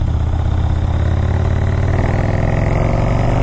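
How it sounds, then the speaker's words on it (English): A Harley-Davidson motorcycle with a 110 engine roars steadily and loudly while riding, a continuous deep rumble with no speech over it. "listen to that engine roar"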